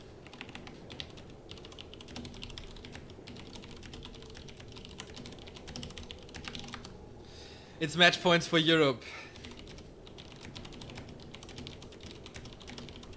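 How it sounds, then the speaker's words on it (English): Computer keyboard typing clatters in a steady stream of close, rapid clicks beneath commentators talking during a Europe vs. Korea esports match, with a brief louder vocal burst midway. "I wonder, is that keyboard so loud on stream, or is it only so loud for me?"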